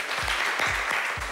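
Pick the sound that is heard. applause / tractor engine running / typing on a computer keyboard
applause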